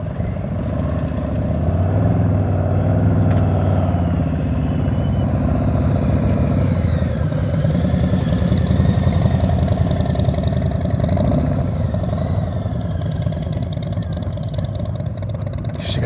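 A motorcycle engine idling at low throttle during a slow-speed riding practice session, a steady, loud droning rumble with light clatter that holds evenly throughout.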